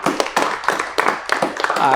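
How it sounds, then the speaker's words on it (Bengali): Applause breaks out for a correct answer on a student general-knowledge quiz show, a cluster of hands clapping in uneven bursts for about two seconds, close and fairly loud with some crowd murmur. "একটা করতালি হবে"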